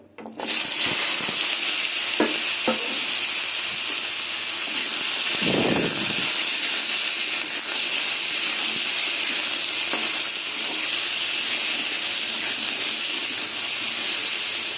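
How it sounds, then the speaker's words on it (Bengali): Pumpkin pieces and slit green chillies hit hot oil with a loud sudden burst of hissing sizzle that holds steady and strong throughout, with a brief thud of movement in the pan partway through. "এবার কুমড়ো আর দুটো কাঁচা লঙ্কা চিড়ে দিয়েছি তেলে দিয়ে দেবো"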